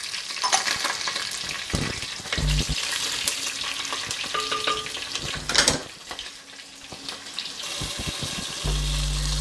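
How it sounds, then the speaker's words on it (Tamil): Mustard seeds, curry leaves and green chillies sizzle and fry steadily in hot oil for a sambar, with stirring clatter and brief pops throughout, close and fairly loud, with no talking. "அடுத்தது கடுகு போட்டுக்கலாம். அடுத்தது கருவேப்பிலை போட்டுக்கோங்க. அடுத்தது பச்சை மிளகாய் போட்டுக்கோங்க."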